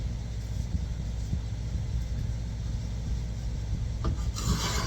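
Number 2 hand plane leveling a high spot on a walnut and cherry wooden box lid, a steady close rasping rub of the blade across the wood, continuous with a brighter scrape of a stroke near the end.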